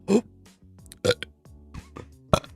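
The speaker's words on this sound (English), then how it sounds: "Can you guys burp on command?" Short bursts of burping made on command, several loud belches spaced through the moment with quiet gaps and faint voiced sounds between them.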